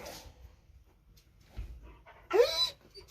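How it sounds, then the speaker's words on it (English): A dog in a garage workshop gives a single short, faint bark or yip near the end, set against quiet room noise and some soft movement. "Now, hello there, dog. I like dogs."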